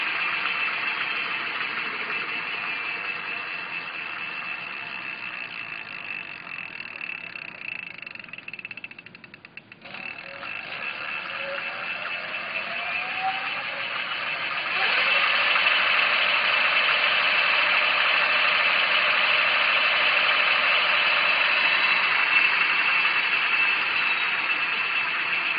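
72V electric bike hub motor spinning freely with no load on a 20s LiPo battery, a steady high electric whine with a brief dip around ten seconds, then growing louder and more intense from fifteen seconds on, close and without voices.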